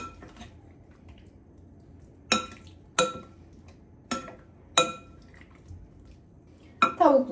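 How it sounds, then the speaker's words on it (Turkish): Chicken pieces being mixed into a sauce in a bowl, with a few sharp clinks and knocks against the dish at irregular intervals over a quiet background, ending in a louder cluster of clatter. "ellerimi bulaştırmamak için bu şekilde karıştırıyorum"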